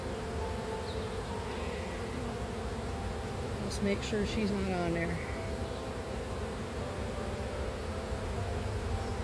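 Honeybees drone steadily while hive frames are handled during a hive split, a constant close buzzing throughout, with a person speaking briefly over it midway.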